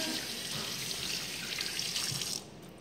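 Water runs steadily from a tap into a sink while sneakers are cleaned with a Reshoevn8r kit, a loud continuous splashing rush that cuts off sharply near the end and leaves quieter dripping.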